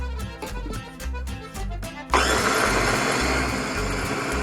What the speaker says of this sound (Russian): Отправляем листочки в блендер и начинаем по частям их измельчать.